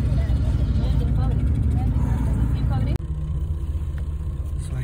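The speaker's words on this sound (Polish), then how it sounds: "Tylko 10 godzinek jazdy autobusem" Steady low engine rumble and road noise inside a bus on a ten-hour long-distance ride through Peru toward Nazca, continuous and loud with a brief dropout midway, with talk over it.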